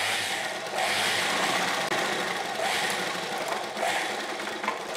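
A sewing machine runs continuously while stitching the back panel of a lehenga, making a steady, close mechanical whir with slight rhythmic surges and no pauses.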